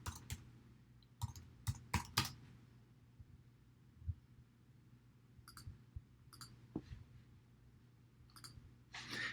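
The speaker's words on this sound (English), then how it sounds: "So I'm going to go ahead and type in unearned revenue." Computer keyboard typing, quiet scattered key clicks in short bursts separated by pauses, close and faint over a low hum, with no talk.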